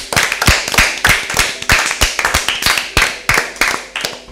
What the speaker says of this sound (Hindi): टीम ए के लिए भरपूर तालियां।